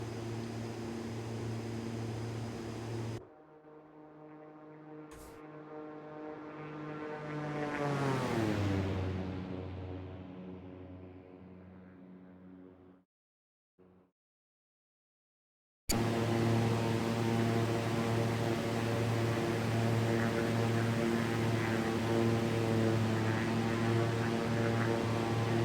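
A Diamond DA50RG aircraft engine in the X-Plane 11 flight simulator drones with a steady harmonic hum, its pitch sliding upward as it revs, then cutting out to near silence before the loud steady drone resumes.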